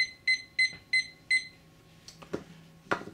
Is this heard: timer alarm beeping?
yes